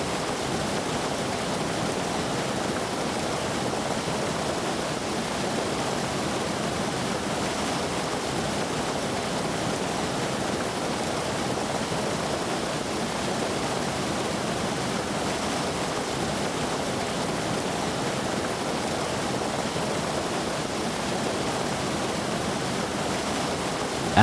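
Rushing river water in Taiwan, carrying fish swimming and jumping upstream after rain; a steady, dense, full-band roar with no breaks, close and continuous throughout, and no voices.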